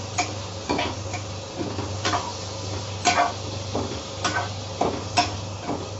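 Prawns sautéing in a pan for prawn biryani, a steady low sizzle throughout with repeated scraping and tapping of a spoon against the pan every second or so, close up and with no talking.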